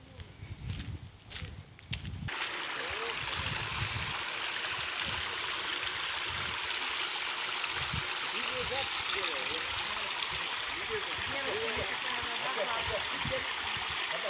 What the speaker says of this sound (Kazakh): Мына жерде су ағып жатыр, таза.